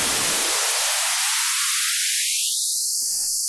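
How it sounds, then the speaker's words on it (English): White noise test signal, a loud steady hiss that begins full-range and is progressively filtered so the low end drops away, leaving only a high band by the end. "So you do white noise."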